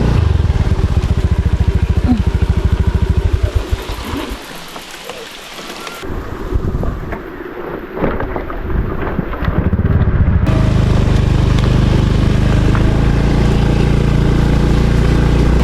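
A motorcycle engine labours and revs while turning around in thick mud on a camping trip. Heavy wind- and rain-like noise surges and dips around it, and a person speaks at points.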